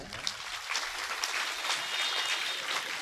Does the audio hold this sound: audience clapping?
yes